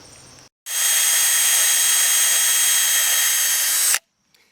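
A power drill pre-drilling into 8-inch wooden boards for a raised garden bed frame whirs loudly and steadily for about three seconds close by, starting and stopping abruptly.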